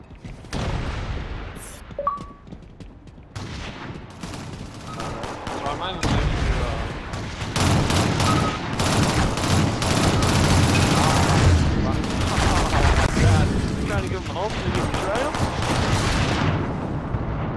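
Submachine gun fire in the video game Shadowrun during a competitive scrim, a dense, sustained rattle of rapid shots and booms throughout, with players' voices talking over it.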